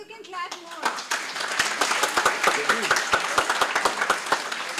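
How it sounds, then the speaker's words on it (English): Children clapping at a Sunday feast gathering, starting with a brief voice, then a growing patter of many small hands in loose uneven rhythm with sharp individual claps standing out close by. "You can clap more."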